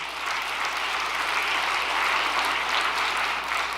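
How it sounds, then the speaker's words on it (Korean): Dense, steady applause from a large audience at a church gathering fills the whole stretch, loud and even with no voices over it. "박수 한번 보내주시기 바랍니다."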